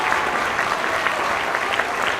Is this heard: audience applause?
yes